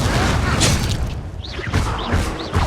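The Incendio fire spell erupts in Hogwarts Legacy combat with loud booming bursts and whooshing flames, several impacts in quick succession amid game effects and brief voices.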